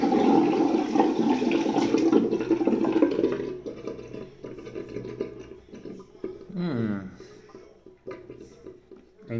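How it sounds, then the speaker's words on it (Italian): Fresh water running and splashing into a bathroom sink as a face is rinsed after a straight-razor shave, loud at first and then breaking into irregular splashes, with someone speaking over it. "quindi mi ribagno con l'acqua fresca."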